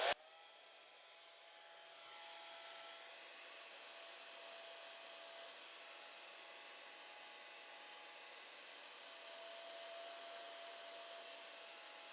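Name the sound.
hair dryer drying a watercolor painting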